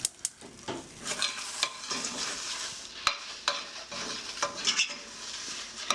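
Seasoned breakfast burrito filling is stirred in a pan with the heat off: repeated scraping and clicking strokes of a utensil over a light background sizzle, close and irregular, with no voices.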